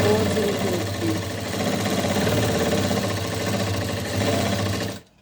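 A sewing machine stitches the joined back seam of a salwar, a steady, loud mechanical whirring that runs for about five seconds before cutting off abruptly.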